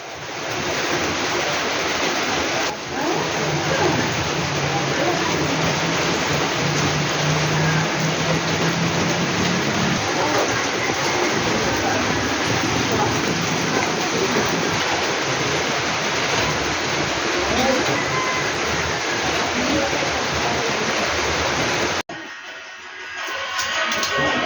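Typhoon rain and wind on an island, a dense, loud, unbroken roar of heavy rain and gusting wind close by, cutting off abruptly near the end.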